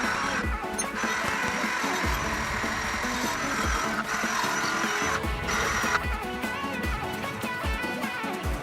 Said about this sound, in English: go over it with a wire brush and a drill and clean as much as I can